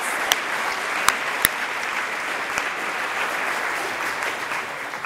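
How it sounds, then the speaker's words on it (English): An audience at a talk applauding steadily for several seconds, a dense even patter of clapping with a few sharper individual claps standing out. "we should give them a round of applause"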